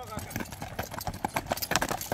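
Horse hooves clip-clop in a quick, irregular rhythm while someone speaks Kyrgyz over them, the thuds close and fairly loud under the talk.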